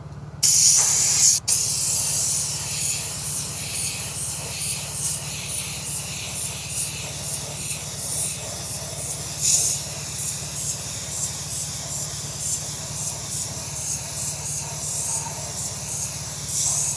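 Clear coat sprayed from a can onto a black Porsche wheel rim after curb rash repair, a steady close hiss that runs for the whole stretch with short bursts and pauses, no talking.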